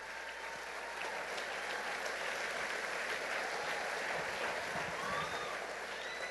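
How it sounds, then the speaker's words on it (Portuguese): Congregation applauding in a church, a steady wash of clapping at moderate distance that holds evenly throughout, with a faint voice now and then underneath. "Você pode aplaudir o Senhor Jesus"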